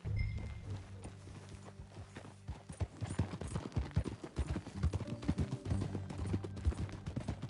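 Horse hooves in the video game Red Dead Redemption 2 clip-clop in a steady, quickening rhythm, fairly close, over a low background hum.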